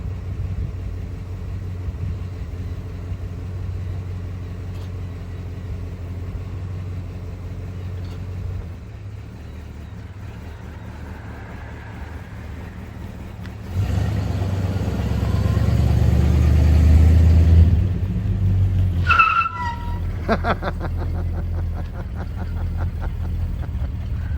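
A 1973 Dodge Charger rumbles on a road with a low, steady engine drone that swells louder as the car passes nearby, then settles back to a continuous idle-like hum, with a few brief higher-pitched squeaks near the end.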